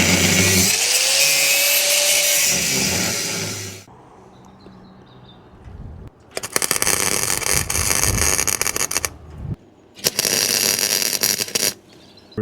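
An angle grinder cuts lugs off the steel frame of a custom Honda Hornet motorcycle. The sound comes as a harsh, loud grinding burst, then a quieter gap, then two more long bursts of screeching cutting close by.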